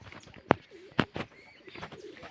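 Pigeons coo on a rooftop, with a few sharp throaty calls spaced across a short quiet stretch, close by and otherwise calm.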